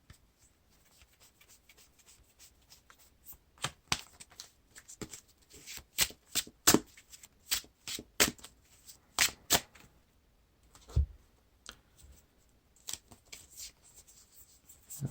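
A deck of game cards for the Lord of the Rings card game is searched through and shuffled, a close sequence of soft flicks and sharp riffling snaps in irregular bursts, no talk.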